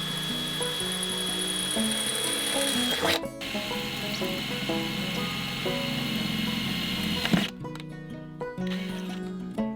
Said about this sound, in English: it's just a case of drilling all these holes out.